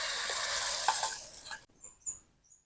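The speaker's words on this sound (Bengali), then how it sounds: "এবার আমি ভেজে নেব।" Egg and lentil batter fries in hot mustard oil, a dense bright sizzle that runs steadily and then cuts off abruptly, leaving a few faint pops and crackles.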